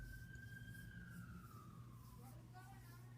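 An emergency vehicle siren wails as it passes along a street, a single gliding tone falling slowly and then wavering, heard faintly at a distance beneath a steady low background hum.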